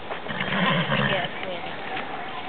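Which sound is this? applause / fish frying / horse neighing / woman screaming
horse neighing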